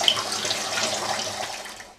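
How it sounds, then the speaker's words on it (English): Water flushing through RO water purifier filters with a steady hissing rush of flow that tapers off toward the end, close and moderately loud. "we are flushing the filters"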